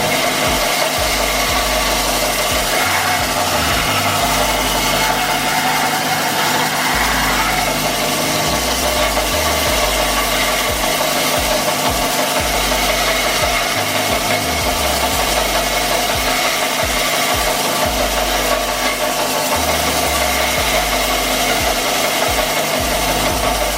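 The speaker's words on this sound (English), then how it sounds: "So got a little bench grinder here" A small bench grinder or bench sander runs steadily, taking the machined edge off a phantom grip for a car's shifter, with a continuous loud motor whir and vibration and no speech throughout.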